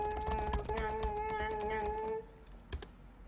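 Rapid clattering keystrokes on a computer keyboard, typed in a steady burst for about two seconds over a faint background hum, then a single louder key tap a moment later.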